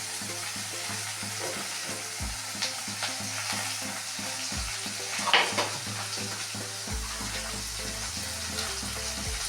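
Ginger paste and green chillies fry in a pan with a steady, close sizzle and crackle, broken by occasional stirring scrapes and low thumps. No voices.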